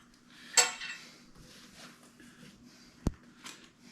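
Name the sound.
metal parts of a meat grinder being assembled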